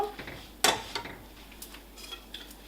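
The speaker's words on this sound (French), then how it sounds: "Je mets le couvercle." Lid placed onto a glass jar of sloe compote in a kitchen, a sharp clink followed by a few lighter taps and small scrapes, close and otherwise quiet.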